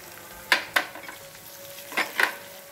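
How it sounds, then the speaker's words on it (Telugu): Ginger garlic paste added to onions frying in a pan for a spicy carrot fry, a low sizzle broken by four short scraping stirs in two pairs. "ఇప్పుడు అల్లం వెల్లుల్లి పేస్ట్ 1 స్పూన్ వేసుకుంటున్నాను."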